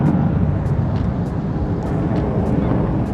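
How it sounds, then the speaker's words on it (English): A fighter jet taking off at the Dubai Airshow makes a loud, continuous low roar with wind buffeting, filling the whole stretch without talk. "there's a super loud fighter jet taking off, which happens all afternoon here"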